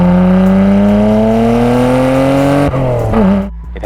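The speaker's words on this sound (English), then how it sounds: "So the way this car sounds is absolutely beautiful." A Nissan Skyline R32 GTR with HKS downpipes, a Sard catalyzer and an HKS super turbo exhaust roars loudly and close, its pitch climbing steadily under acceleration before the note shifts and drops away.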